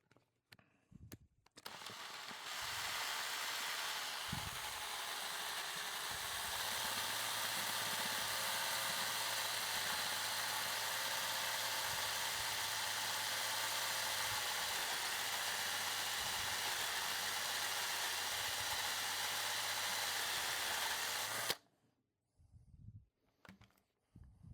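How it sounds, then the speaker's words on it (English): A step drill bores steadily into a buttstock air supply adapter for an Umarex TR68 air rifle, giving a continuous, even whirring hum for about twenty seconds, close and fairly quiet, with brief handling noises before and after. "Just gonna keep going with this step drill."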